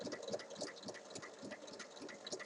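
A sewing machine stitches around the edge of a fabric notebook cover, a faint, quick, steady mechanical patter of needle strokes running continuously, with no voices.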